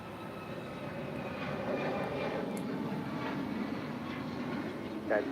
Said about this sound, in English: Next arrival is Speedbird, the A350-1000 flight 283 here on the south side.